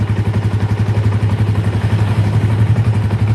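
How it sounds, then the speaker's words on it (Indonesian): A nearby motorcycle engine, its middle crankcase glued without a gasket, idles with a loud, steady, rapid thumping pulse and a light mechanical clatter, heard alone without talk. "suara segini itu wajar ya, suara kayak gini tuh wajar, jangan salah. Fiction pasti ada suara kayak gini, Jupiter MX juga ada suara kayak gini"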